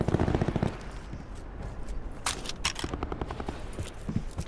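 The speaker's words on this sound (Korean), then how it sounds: "밖에 총소리 들렸어요." Gunfire sounds outside in the Call of Duty Black Ops 4 Blackout video game, with irregular sharp cracks and short bursts, some rapid and clustered, over a low, noisy background.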